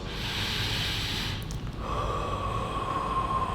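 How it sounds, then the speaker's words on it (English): Slow, relaxed breathing during a pulmonary rehabilitation exercise, drawn in through the nose and then blown out gently through pursed lips: a soft airy inhale followed by a steadier, slightly whistling exhale, close and alone. "start taking nice, easy breaths in through your nose"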